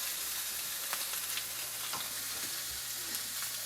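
Whiskey-marinated steak sizzles and crackles steadily in a hot pan, a dense close frying hiss with small pops and occasional utensil scrapes.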